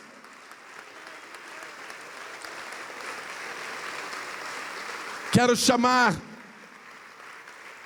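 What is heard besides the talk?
church congregation applauding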